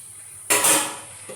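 A tea cup and mixer jar set down in a washbasin: one sharp ceramic-and-metal clatter, close and bright, fading over half a second with a faint knock after.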